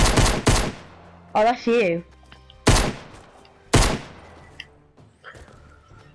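Teammate gunfire in a Fortnite squads match comes as several sharp, loud shots in separate bursts spread across the moment, with a short spoken exchange in between.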